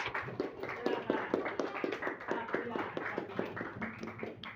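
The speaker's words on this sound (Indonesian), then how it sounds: "Tepuk tangan untuk Sapia." Students in a classroom give a short round of applause, with a burst of quick, uneven hand claps at moderate volume and some voices faintly mixed in.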